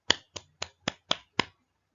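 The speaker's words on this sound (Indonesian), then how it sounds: "Beri tepuk tangan" A classroom of students clapping for a classmate in unison, six sharp, evenly spaced claps close by, followed by silence.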